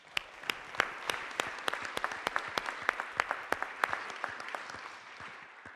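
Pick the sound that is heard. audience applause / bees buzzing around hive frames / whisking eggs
audience applause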